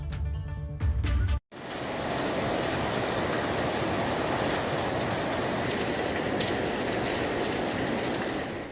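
Heavy rain pours steadily over swollen rivers in the Uttarakhand hills, a dense, loud, continuous hiss of water that follows a brief burst of other sound and a short silent gap.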